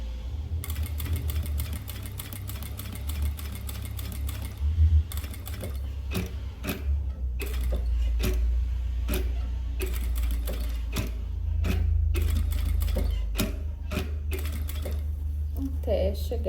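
Sewing machine stitching the side panel of a bag, running in slow bursts of rapid needle clatter with short pauses between, and a low motor hum underneath.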